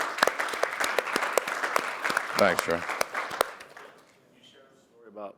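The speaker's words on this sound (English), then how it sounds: "everybody give him a round of applause, please" Live audience round of applause in Las Vegas, sharp dense clapping that dies out after about three and a half seconds, with brief talking mixed in and following.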